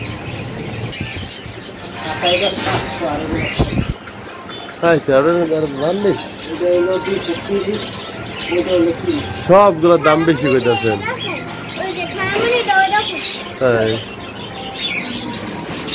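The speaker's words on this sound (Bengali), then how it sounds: "এগুলো সব কবুতর না?" Pigeons, young birds among them, coo and squawk intermittently in the background while several people talk close by throughout.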